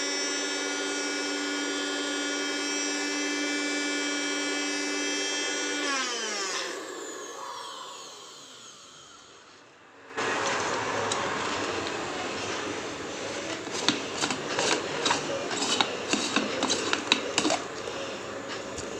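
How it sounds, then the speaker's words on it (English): A La' Forte Lavite Cherie mixer grinder fitted with its masala blade spins up with a steady whine and buzzing harmonics, winds down to near silence, then gives way to rattling clatter and knocks. "I will cover it by the masala mixer blade and now grind it for"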